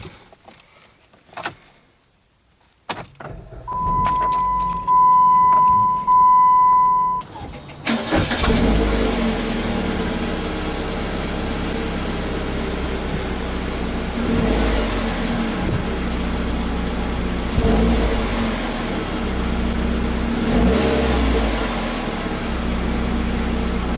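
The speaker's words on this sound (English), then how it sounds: "Let me start her up so you can see what she sounds like." A Jeep Compass engine cranks and catches after a jingle of keys and a steady tone, then idles with a rough, continuous rumble and occasional revs, close by.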